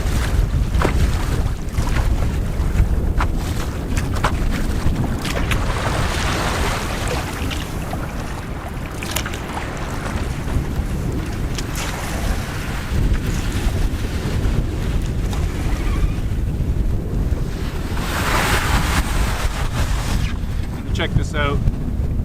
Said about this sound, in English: Wind is intense.